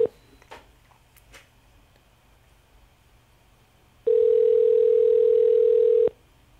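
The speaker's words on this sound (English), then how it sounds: "It's ringing now." A telephone ringing tone on a call sounds as one steady, loud two-second tone after a stretch of near silence with faint background noise.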